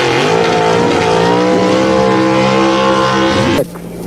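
Several gasser drag race car engines roar loudly at the starting line of a drag strip, a sustained droning rev with steady tones that ends in an abrupt drop as the cars launch away.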